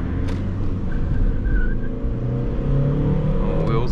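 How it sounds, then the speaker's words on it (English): VW Polo V 1.6 TDI 90 HP with 7-speed DSG pulling away hard in city traffic, a steady loud diesel engine drone with a brief high tire squeal in the middle. "Wheel spin."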